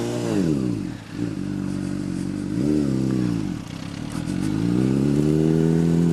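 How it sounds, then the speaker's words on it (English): A Honda CBR1000RR sport bike ridden off-road along a trail, its engine loud and close, revving up and down repeatedly through gear changes with faint clatter from the rough ground. "The CBR1000r. The jack of all trades bike. Turning it into a trail bike now."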